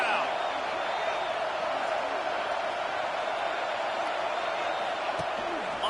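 A football stadium crowd cheers in a dense, continuous roar that holds at a constant loud level from start to finish.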